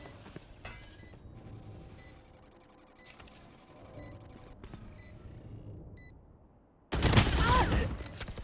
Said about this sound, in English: Swarm grenade.